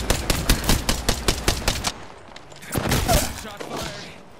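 Rapid automatic gunfire in a video game, a dozen or so loud, evenly spaced shots in a quick burst, followed by a duller rumbling impact and fading noise.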